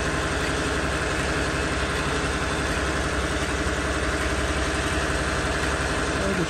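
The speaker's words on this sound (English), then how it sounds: "just turn the vehicle on, let it run, or really just drive it around" A vehicle engine idles steadily after a cooler bypass installation, giving a constant, close, loud rumble that stays even from start to finish.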